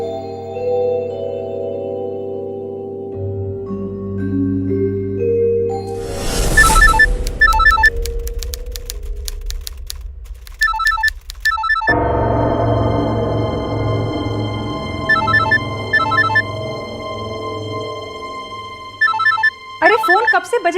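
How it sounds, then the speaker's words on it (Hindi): A phone ringtone chimes repeatedly in short electronic bursts over a sustained musical drone, loud and close, with a few abrupt shifts in the background. "अरे फोन कब से बजे जा रहा है, उठा तो लो।"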